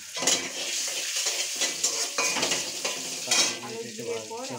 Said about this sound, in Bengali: এবার দিয়ে দেবে, গরম হয়ে গেছে। এবার আমি কালো জিরে দিয়ে দিলাম।